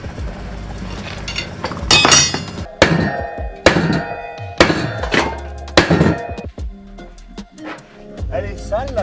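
Repeated heavy hammer blows beat a dented, burst dirt bike wheel rim back into shape, about five loud ringing metallic strikes in an uneven rhythm, with talk mixed in between them.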